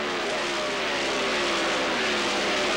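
IRL open-wheel race cars screaming around the track at the 1997 Colorado 200, a dense sustained high-pitched engine roar as several cars run close together, loud and continuous.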